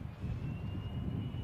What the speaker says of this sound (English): It's the sound of a plane moving.